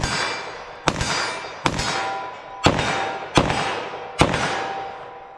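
Five loud, sharp .357 SIG pistol shots firing Corbon 125 gr JHP ammunition crack out at an outdoor range, evenly spaced about a second apart, each with a ringing metallic tail.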